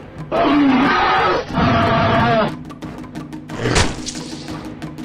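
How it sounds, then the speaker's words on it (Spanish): Sauropaganax, a predatory dinosaur, gives a loud, close roar as it attacks at night, sustained for about two seconds with a brief break in the middle, followed by a heavy thud and rumble. "Con un rugido que hizo eco en la quietud de la noche, Sauropaganax atacó."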